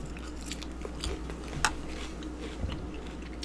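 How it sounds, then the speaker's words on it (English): Close crunching bites of crisp romaine and iceberg lettuce salad, a few sharp crunches scattered over a few seconds with no talking. "I like the crunchy parts of the salad."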